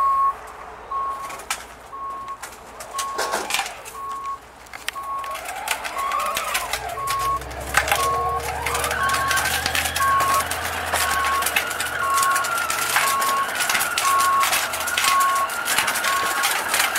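Fisher Price Barbie Camper ride-on toy driving through a McDonald's drive-thru, with a steady electric motor whine and a repeating beep tone throughout, plus outdoor background noise and occasional birds.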